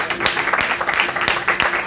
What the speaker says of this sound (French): On peut quand même applaudir les organisateurs quand même